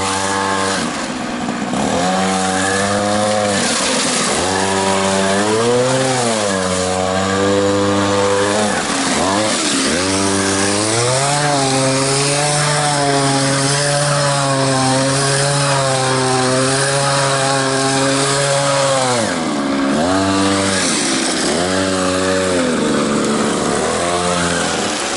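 A Lamborghini Countach engine running on a cool day, loud and close, repeatedly revving up and settling back with rising and falling harmonic whine, several long throttle swells over a steady idle, no talking.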